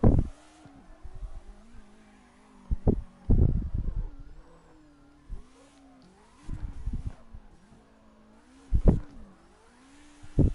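Car engine revving in bursts while drifting in CarX Drift Racing, with the pitch rising and falling over several surges, loud throttle peaks separated by quieter stretches of idle and tire noise.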